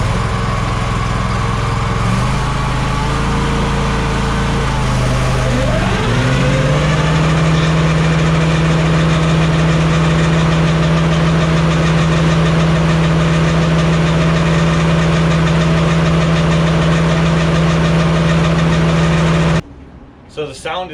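A Walker riding mower engine runs steadily with Versamo blades fitted, a loud, constant droning hum with a brief dip and recovery early on, cutting off abruptly near the end.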